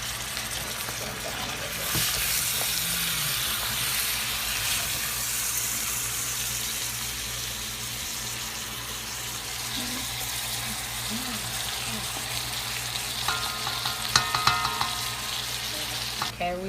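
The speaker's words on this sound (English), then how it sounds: "we stirred all the vegetables into the meat" Vegetables are stirred into pork steaks frying in a pan, with a continuous loud sizzle, spoon scrapes and clatter, then some sharper metallic knocks and water-like splashes near the end.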